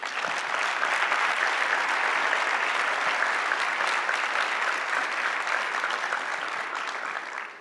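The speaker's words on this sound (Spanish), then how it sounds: "se merece un gran aplauso" An audience at a security forum in Durango, Mexico gives a sustained round of applause, a thick even wash of clapping that holds steady for several seconds before tapering at the end.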